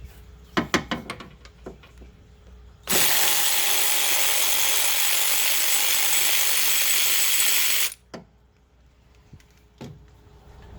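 A 14 mm bolt comes off a Lexus ES350 alternator with a few quick ratchet clicks, then about five seconds of continuous loud whirring from a power tool, followed by scattered metallic clicks and taps.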